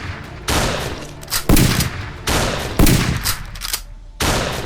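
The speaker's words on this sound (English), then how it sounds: "Armed with a shotgun, Bobby and Dan bolted outside and fired several shots." Several shotgun blasts fire outdoors in sequence, each one loud and sharp with a short echoing tail, spaced about a second apart.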